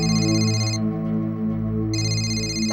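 A phone rings with an electronic tone in two repeated bursts separated by a brief pause, close and clear over a low steady background hum, with no one speaking.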